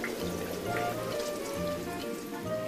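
Autumn rain falls steadily, a soft even patter of drops spread across the whole clip, with faint tonal sounds underneath and no voices.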